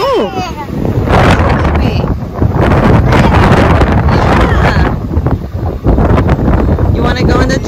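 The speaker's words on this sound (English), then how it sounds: "It's windy, huh? Yeah, it is. It's so windy." Strong wind buffets the microphone outdoors by a hotel with a jacuzzi, a loud continuous low rumble with gusts throughout, while voices talk over it.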